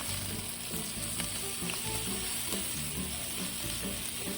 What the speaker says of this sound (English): I'm just gonna add a little bit of my confit garlic just for a little bit of extra flavor.